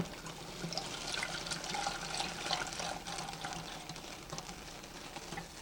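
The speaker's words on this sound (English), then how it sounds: "here I'm pouring in the milk." Milk being poured into a pan for homemade hot chocolate, a steady liquid pour and trickle that runs for several seconds, close by and alone without talk.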